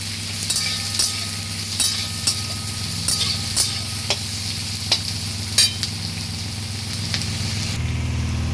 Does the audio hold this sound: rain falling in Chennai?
no